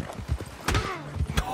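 A horse in Red Dead Redemption 2, hooves clopping in a close, uneven rhythm with a brief snort or whinny, loud against background noise.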